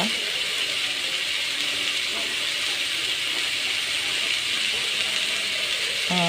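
Tomatoes sautéing with a little salt in a pan, a loud, unbroken hiss of frying that stays level throughout, with faint clatter underneath.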